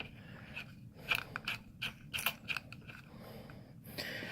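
Faint plastic clicks and ratcheting scrapes from a new Kirby vacuum rotor being turned by hand onto its reverse thread, a quiet irregular series of small ticks and grinds close to the microphone.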